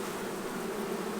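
Honey bees buzz around summertime beehives in a dense, continuous drone, close and steady throughout with no pauses or voices.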